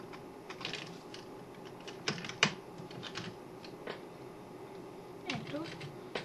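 Steady, fairly quiet clatter of keys on a computer keyboard as a search term is typed, with a few louder clicks in the middle and a soft hum underneath.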